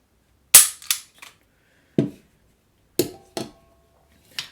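Dry-fire trigger pulls on a Beretta semi-automatic pistol (92X or Px4 Storm) in double and single action, heard as sharp metallic clicks and snaps spaced over several seconds, close and crisp against silence.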